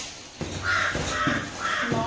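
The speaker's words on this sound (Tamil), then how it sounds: "கரெக்டாக வீடியோ எடுக்கும்போது காக்கா வந்து" A crow caws three times in a slow, evenly spaced series, each harsh call fairly close and clear over a steady background hum.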